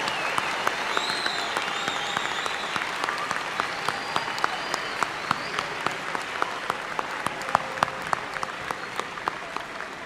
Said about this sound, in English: Let's have a round of applause for our August 2018 graduate degree recipients